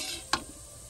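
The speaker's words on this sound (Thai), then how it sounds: "เดี๋ยวคั่วให้มันหอมๆกัน นี่คือปิ้นคั่ว เนาะคั่วให้มันเริ่มหอมแล้ว" Fish is dry-roasted in a pan, giving a soft, steady sizzle and a single quick scrape of stirring partway through, heard alone without talk.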